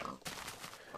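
A pig in Minecraft's Aether mod gives a single short grunting oink, close and moderately loud, with no talking.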